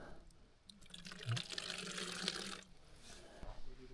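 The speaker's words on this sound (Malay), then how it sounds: "Saya ambil kat lopak yang mengalir ni lah." Water trickles and splashes from a small flowing pool on a jungle stream where drinking water is collected, close by and gurgling unevenly, louder in the middle then settling into softer drips.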